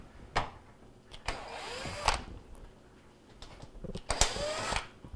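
Several short bursts of a power screwdriver whir in pulses as screws come out of a Whirlpool microwave panel, close and fairly quiet, with clicks and handling noises between them.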